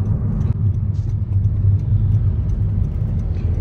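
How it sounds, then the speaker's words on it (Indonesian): Big trucks roll past on a busy road, a steady, loud low engine rumble and tyre roar heard from inside a moving vehicle, continuous without pause. "Banyak truk-truk besar."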